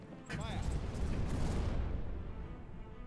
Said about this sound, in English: Let's give it a warning shot.